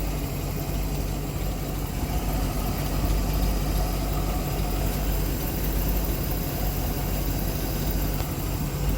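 A Mercury MerCruiser 898 boat engine idles steadily at low rpm, a loud, continuous rumbling drone with constant hum and no speech over it.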